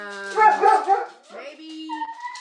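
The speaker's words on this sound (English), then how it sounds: "That's our dog Chief." A pet dog gives a few close whining, whimpering yelps and then a short bark, loud and near in an otherwise quiet room.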